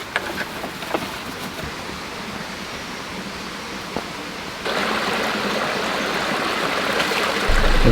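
Creek water rushing along a rough 4WD track in the Watagans, a constant broadband wash of flowing water that grows louder and fuller partway through, close by and heard without talk.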